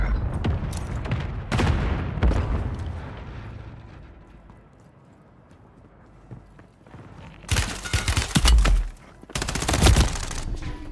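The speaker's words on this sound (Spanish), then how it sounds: "Me están cagando a tiros, loco." Bursts of gunfire in the video game Warzone, loud rattling volleys with a quieter gap in the middle, then heavy close firing that returns in two dense clusters near the end.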